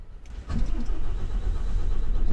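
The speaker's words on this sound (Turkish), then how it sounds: "Basalım marşa da." A truck engine with a low battery cranks briefly, then catches and settles into a loud, rumbling idle close by, with no one talking.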